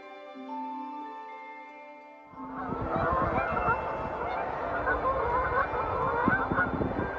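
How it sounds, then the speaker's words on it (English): A steady tonal drone gives way to a flock of geese honking loudly and continuously on a cold night, many overlapping calls close by outdoors beside a canal narrowboat. "seeing the geese go off at night"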